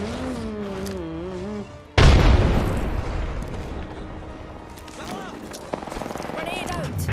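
A grenade blast in a video game erupts loudly and suddenly after a stretch of music and chatter, followed by a rumbling tail and scattered in-game noises.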